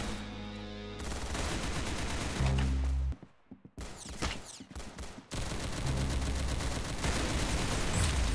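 Rapid bursts of gunfire from the Arsenal video game, loud and close, with dense fusillade and machine-gun rattle filling most of the stretch, broken by a short near-silent gap and a few isolated shots before the firing resumes.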